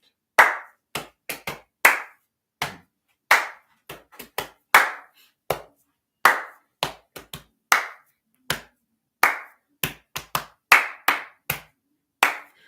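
Solo body percussion plays a hip hop rhythm from a music teacher's studio: sharp, close hand claps and slaps fall in a syncopated boom-clap pattern, crisp and isolated against silence.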